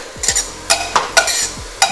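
Lentils being fried with onions in a pan, with a spatula scraping and knocking against the metal in short irregular strokes over a soft sizzle, close and fairly loud.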